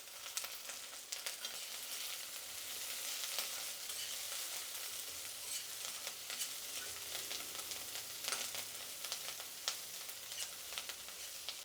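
Garlic, onion and curry leaves fry in hot oil for okra chutney, producing a continuous dense sizzle with crackling pops and occasional stirring, close and steady, with no talking.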